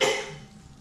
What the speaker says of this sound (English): I always have to cough